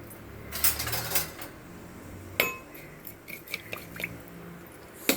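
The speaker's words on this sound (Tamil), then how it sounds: "இங்கே மண் சட்டி சூடு ஆயிடுச்சு. இதில் நம்ம என்னென்ன ஆட் பண்ண போகிறோன்னா கடுகு, ஜீரகம், வெந்தயம் கொஞ்சமாக பொரியட்டுங்க." Mustard seeds, cumin and fenugreek spluttering in a hot clay pot, with scattered sharp pops and crackles, some clustered and some isolated, fairly close and fading to sparse ticks.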